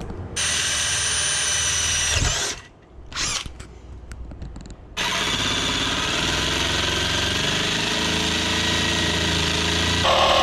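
A jigsaw cuts circular holes in wood for a rat-rod-style Bluetooth speaker, a loud, steady, buzzing rattle that drops out briefly at about two seconds and restarts, then runs on continuously to the end.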